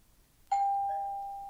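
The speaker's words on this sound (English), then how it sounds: "It's a doorbell!" A doorbell in a kitchen rings once with a single clear electronic tone that starts suddenly and rings on steadily, loud and alone with no talk over it.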